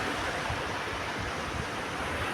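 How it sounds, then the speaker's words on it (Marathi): Waves wash steadily onto Devbagh Beach near Karwar at sunset, a continuous close roar of surf with no gaps and no voices. "लाटांचा खळखळ आवाज आहे बॅकग्राऊंडला."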